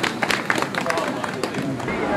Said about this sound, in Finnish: No niin, aplodit sinne.